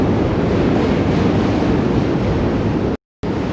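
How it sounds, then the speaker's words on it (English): A loud, continuous roaring rumble of a subway train passing on the Manhattan Bridge in New York City, broad and steady, with a brief dropout near the end. "Another train passing on the other side."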